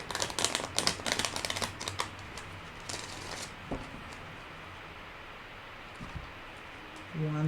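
Tarot cards being shuffled and pulled, a quick burst of riffling card flutter up close, then a few soft taps and slides of cards against a quiet background.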